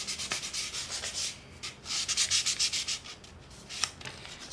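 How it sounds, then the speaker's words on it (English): Fine sandpaper rubbed over the dried, shaped wooden rims of a handmade apple basket, a quiet close-up scratching in steady back-and-forth strokes with brief pauses, no voices. "and we're going to do some sanding."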